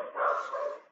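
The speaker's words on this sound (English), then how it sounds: "So barking is new for one of my webinars." A single dog gives a short, muffled bark-like yelp over a call line during an online webinar, faint and somewhat distant, with no talk.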